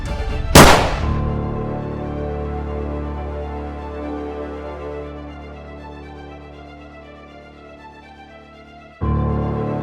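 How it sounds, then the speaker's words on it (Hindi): A single sharp gunshot cracks out in a dramatic scene, followed by a lingering tonal musical drone that fades before a sudden swell of music near the end. "मैं गोली चला दूंगा।"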